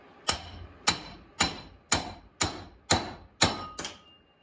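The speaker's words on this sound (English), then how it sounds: "Ball joint fork." Eight sharp metal hammer blows struck about half a second apart on a ball joint fork, driven in to separate a tie rod on the front steering of a 1992 Chevrolet S10 Blazer, each ringing briefly and close.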